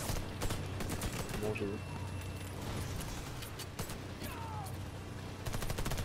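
Gunfire in the video game Cold Peak, a run of rapid, dense shots and bursts spread through the clip beneath constant game noise, with people talking over it.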